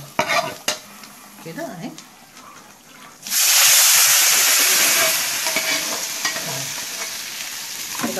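Fried garlic is poured onto spinach in a pan for an Egyptian home dish, setting off a sudden loud sizzle that settles into a steady hiss. Quieter stirring and brief speech come before it.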